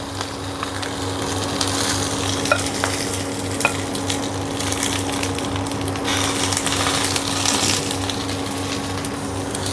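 Taro leaf paturi parcels fry in mustard oil in a wok, a loud close sizzle with continuous spatter and a low steady hum, crackling pops scattered across it and no voices.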